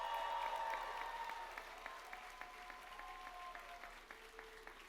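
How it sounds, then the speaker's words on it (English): A graduation ceremony crowd applauds at a college commencement, a broad, fairly distant wash of clapping that stays steady and slowly eases off, with faint tonal hum beneath and no speech. "Give them a big round of applause."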